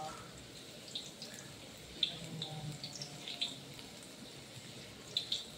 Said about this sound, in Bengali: এই যে তেল তেতে গেছে, দেখো পেঁয়াজের রিং ভাজা হচ্ছে